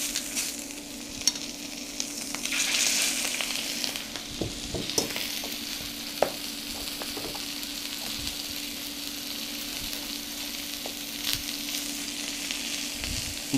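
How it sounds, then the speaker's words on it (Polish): Pork tenderloin frying in hot oil in a kitchen pan, a continuous close sizzle with scattered crackles and pops running the whole time, no talk. "możemy zacząć smażyć polędwiczkę."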